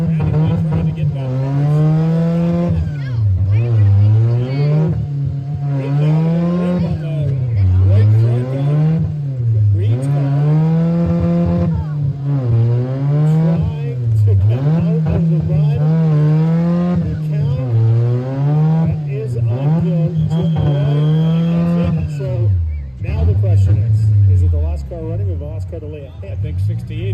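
Compact cars compete in a demolition derby at Bruce Mines. Engines rev loudly in repeated rising and falling surges over about two dozen seconds, with scattered knocks and scrapes and a commentator talking over the action.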